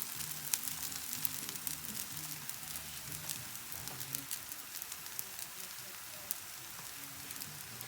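Batter sizzles in a hot skillet, a soft, steady crackle with scattered pops throughout, while a low voice talks faintly underneath.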